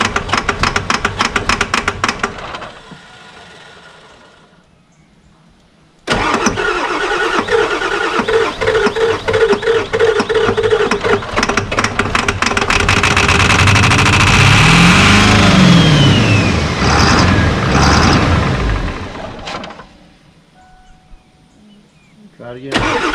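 A car engine cranks briefly, cuts out, then catches and roars with the gas pedal floored, revving hard and rising and falling before dropping back, with people talking over it.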